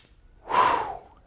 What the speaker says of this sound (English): Again, breathing would be inhale